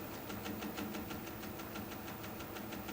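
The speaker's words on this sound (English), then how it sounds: "That noise you hear is that little chip out in the tenon right there. It's hitting my thumb." A small chip in a cherry wood tenon knocks against a thumb on a spinning wood lathe, making a quiet, fast, regular ticking over the low hum of the machine.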